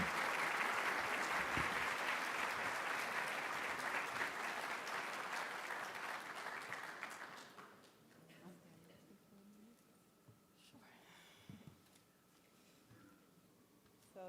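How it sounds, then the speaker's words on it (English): An audience at a physician assistant program white coat ceremony breaks into sustained, full applause for about seven seconds, then it thins and fades into quiet room noise with a few stray claps. "The time for applause is now."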